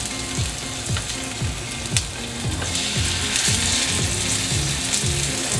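Pork chops fry in olive oil in a pan over medium heat, a loud close crackling sizzle broken by repeated rhythmic creaks and scrapes, no voices.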